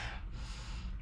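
A sharp, breathy inhale during a slow mat-based full-body workout, close and fairly loud, one continuous rush of air lasting about a second with no talking.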